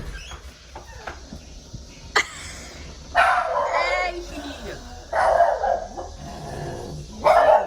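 A dog barks and yips several times in short bursts nearby, with faint whimpering and background movement between the barks.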